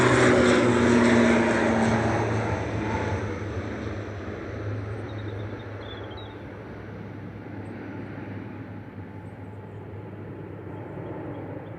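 An Aurigny airliner departs Manchester Airport for Guernsey, a loud engine roar with steady low drones up close that gradually recedes into the distance, no voices heard.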